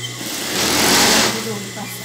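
A sewing machine runs a seam on a simple curtain, a fast, steady mechanical whir that briefly grows louder in the middle while someone talks over it.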